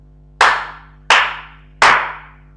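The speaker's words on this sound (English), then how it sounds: "Clap hard, everyone." A classroom of students clapping hard in unison, three loud sharp claps evenly spaced about two-thirds of a second apart, each ringing briefly in the room.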